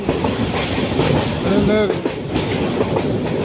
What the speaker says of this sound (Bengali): ভিতর দিয়েই যে ট্রেনের জন্য যে চলাচলের ব্যবস্থা করেছে, আমি এখন ওই ট্রেনে আছি।